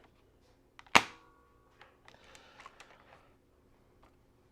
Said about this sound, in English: Prime it, and just so you can kind of see the whole thing in motion, I'm just going to fire it off this direction.